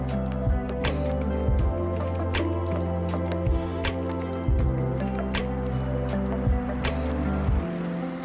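Acrylic paint poured from a tilted jug for a flow painting, giving a continuous wet, squishy pour with repeated soft drips and splats spread through the clip, close and moderately loud, with no voices.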